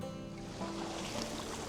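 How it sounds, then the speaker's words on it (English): Ocean waves wash against a concrete structure on the Dungarvan coast, Co. Waterford, a faint, steady broadband surge with a low rumbling undertone, brief and without voices. "That's waves near a concrete structure."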